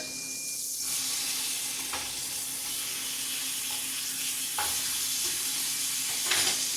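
Pan-seared pork chops hiss steadily in a hot pan as they are flipped, with a few soft scraping knocks over an even sizzle and no voices.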